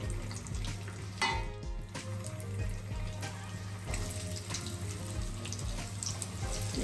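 Onion sizzles and fries in a hot pan with bay leaf for a Bengali crab curry, a steady close crackle with occasional clinks of utensils.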